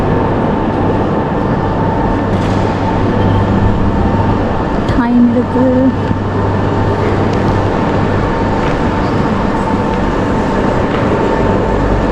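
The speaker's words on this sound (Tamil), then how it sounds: "railway station" A steady loud rumble of a train at a railway station in Switzerland, with a continuous low hum and drone, a voice speaking briefly over it.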